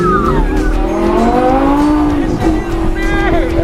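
A Lamborghini sports car roars hard at high speed, its engine pitch sweeping upward through gear changes with loud, continuous wind and road noise, close and intense inside the car.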